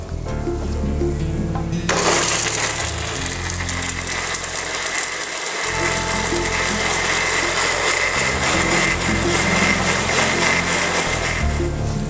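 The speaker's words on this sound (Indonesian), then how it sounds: "Kemudian kita blender bumbunya sampai halus" An electric blender grinds a spice mix of coriander, seasoning and salt into a smooth paste: a loud, steady motor whir with rattling kicks in after a quieter start and runs on without talk.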